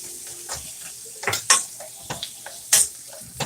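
Bacon bits are stirred into ramen in a pot, with a spoon scraping and clinking against the metal in irregular strokes over a soft sizzle, close and fairly quiet.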